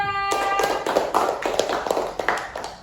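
A classroom of students claps for a calligraphy group, a run of fairly even, rhythmic claps that starts abruptly and carries on at moderate loudness.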